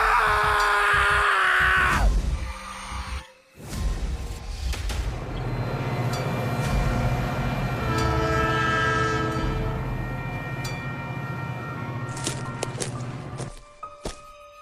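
A train rumbles past close by, its horn blaring with long sustained tones, then the noise steadies into rolling wheels before cutting off.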